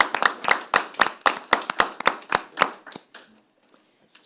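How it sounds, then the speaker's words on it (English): A room full of people applauds at a small-town board of selectmen meeting, a brisk burst of clapping lasting about three seconds before fading to a few scattered claps and quiet. "a round of applause from us and everyone"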